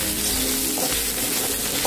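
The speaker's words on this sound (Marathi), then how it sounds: "आता हे परतवून घ्यायचं आहे आपल्याला" Bread-roll filling seasoned with black pepper powder and salt sautéing in a pan, producing a loud, close, continuous frying sizzle with no voices.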